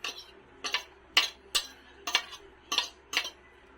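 Chopped grilled-then-fried pork mask being mixed with onion for sisig, with seven evenly spaced sharp clinks of a utensil against a bowl or pan, close and clear over a quiet background.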